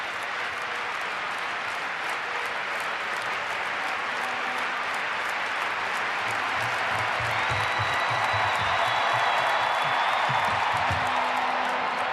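Arena crowd at a women's long jump final in Belgrade, Serbia, sustaining a broad, steady roar and applause for a Serbian jumper, with a commentator's voice faintly underneath.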